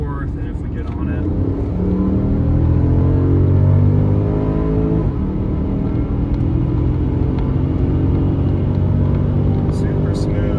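A Porsche Panamera 4S in Sport Plus mode accelerating hard from fourth gear through its PDK gearbox: a loud, continuous engine drone rising in pitch, heard from inside the cabin with a voice talking over it.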